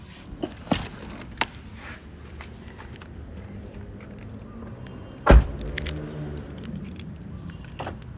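A car engine is started: faint clicks and rustles, then a sharp cranking burst halfway through before the engine settles into a low steady idle.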